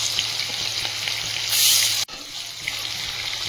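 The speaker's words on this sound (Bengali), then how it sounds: "এখানে তেল গরম হয়েছে, লবণ দিয়ে দিচ্ছি তেলের মধ্যে" Salt tipped into hot oil in a pan for a Bengali dish of fried kundri and potato, giving a steady close sizzle that swells into a louder burst, cuts off sharply, then settles back to a constant fry.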